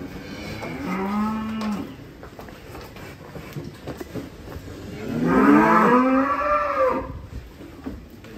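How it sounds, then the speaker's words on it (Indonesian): Limousin cattle at a cattle center in Ciledug moo loudly, one long low call followed a few seconds later by another, stronger and closer, with quiet shuffling in between. "Ini dia pusat sapi jumbo di Ciledug."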